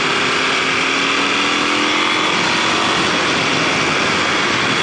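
Kawasaki KLX250sf motorcycle engine revving steadily as the bike accelerates on a gravel road, a continuous close, loud buzzing drone with broadband road and wind noise, rear tire spinning on loose gravel.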